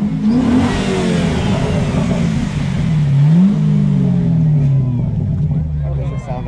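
Mazda RX8 with an aftermarket exhaust revving hard, a loud rising and falling engine note held close by, with people talking over it at a car meet.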